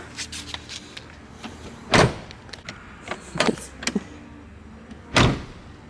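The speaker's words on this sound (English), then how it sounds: "I never realized how hard RX-7 doors are to close." Two solid thuds as a Mazda RX-7 FD Type R door with new seals slams shut, separated by a few seconds, with softer clicks and rattles of handling in between.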